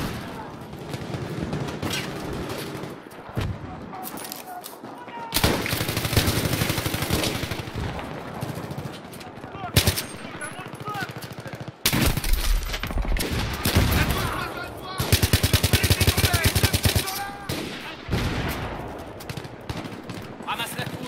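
Rapid automatic machine gun bursts ring out in Battlefield 3 gameplay, mixed with other gunfire and booms, loud and close in repeated volleys, with voices talking over the combat.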